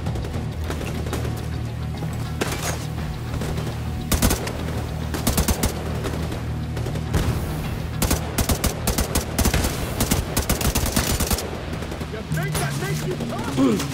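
Bursts of suppressive machine gun fire in The Division 2, the rapid cracks clustering into loud irregular volleys over a steady low rumble, with a player's voice talking through parts of the firefight.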